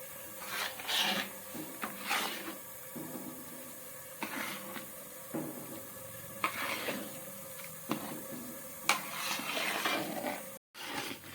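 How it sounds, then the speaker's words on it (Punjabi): Gram flour being stirred and roasted in a pan over a slow gas flame, a steady scraping, rasping stir with soft sizzling, repeating in strokes close by with no talk. "ਆਪਾਂ ਸਲੋ ਗੈਸ ਤੇ ਭੁੰਨਣਾ ਬੇਸਣ ਨੂੰ ਥੋੜਾ ਟਾਈਮ ਵੱਧ ਲਊਗਾ"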